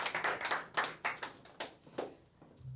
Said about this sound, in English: let's give these wonderful actors another round of applause